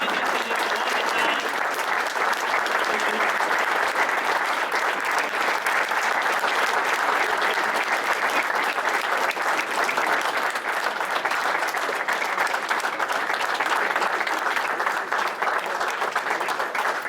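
An audience applauds at the close of a trading competition final, with steady, sustained clapping from many people that continues evenly without pause, a little distant and at moderate volume.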